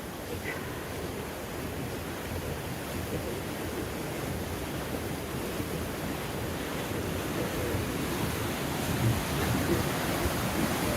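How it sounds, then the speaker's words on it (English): A river flowing steadily outdoors, a continuous broadband wash of moving water that stays fairly loud and even throughout, with no talking. "Look at that river flow."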